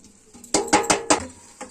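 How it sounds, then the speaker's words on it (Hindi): Ground roasted flaxseed being mixed into jaggery and khoya in a pan, with four or five sharp scraping clinks of a spoon against the metal in quick succession, close and clear, no talk. "अब ये सब सारी चीजें इसी में खोए के साथ ही मिला देते हैं।"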